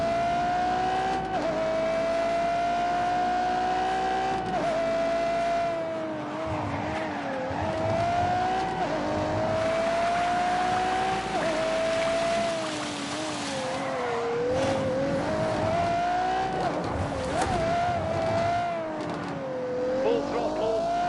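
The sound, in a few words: Ferrari engine at full throttle in The Grand Tour video game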